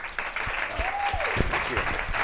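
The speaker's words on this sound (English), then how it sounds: "Another round of applause for them, please." An audience at a Green Talks event applauds its speakers, a moderate, continuous patter of many hands with a soft voice briefly audible underneath.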